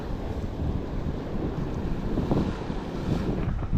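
Sea waves on the Konkan coast wash and churn steadily close by at full moon, mixed with gusty wind buffeting the microphone; a continuous, rough rush with no voices.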